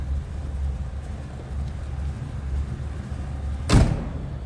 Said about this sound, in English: Door closes beautifully.